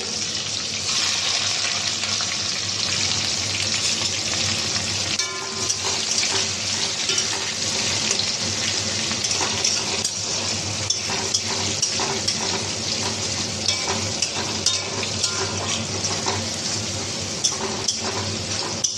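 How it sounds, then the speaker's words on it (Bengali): Chopped onion fries in hot oil with cardamom, cloves and cinnamon for chicken khichdi, giving a loud, dense and continuous hiss that stays close and steady throughout, with faint scraping underneath. "এবার দিয়ে দেবো কুচনো পেঁয়াজটাকে ভালো করে একটু ভেজে নেব।"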